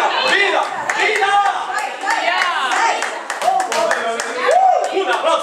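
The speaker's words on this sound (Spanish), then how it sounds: "Un aplauso a Cristo." Steady applause and clapping from a church congregation, loud and sustained, with singing and voices mixed in over it.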